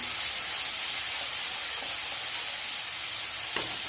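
Cumin paste and chili paste being fried and stirred for a cauliflower and potato curry, giving a constant soft hiss and sizzle with a faint tap or two near the end.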